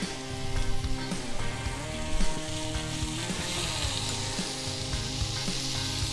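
Butter sizzling and frying on grilled potatoes alongside anchovy over charcoal, a loud, steady, dense crackle filling the whole clip with no talking.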